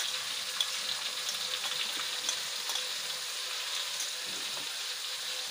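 Onions and chilies fry in a pan for a chicken dish, a continuous bright sizzling hiss at steady loudness with faint crackles throughout.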